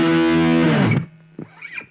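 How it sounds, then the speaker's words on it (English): A Nux Mighty Lite amplifier set to distortion carries a thick, buzzing guitar chord that sustains for about a second, then cuts off and leaves a faint hum and a couple of softer picked notes. "the next one is distortion."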